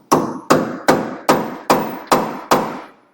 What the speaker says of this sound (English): I'm going to go ahead and back in here with our little chisel again.